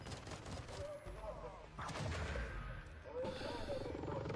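Gunfire in the video game Apex Legends, bursts of shots and booms crackling through a dense, loud mix with players talking over the action.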